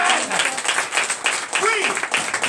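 A church congregation in Comè, Benin applauds during a morning service, dense clapping and crowd noise filling the moment while voices ring out over it.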